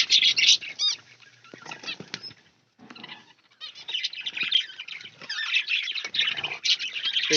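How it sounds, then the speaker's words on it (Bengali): A brown finch chick flutters and hops about inside a cage, its wing flaps coming in quick, scratchy bursts that pause briefly midway and then build back up, close and fairly loud. "এই যে ফিঞ্চের বাচ্চাটা প্রচন্ড ছটপট লাফালাফি করছে"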